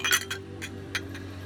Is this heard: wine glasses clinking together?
yes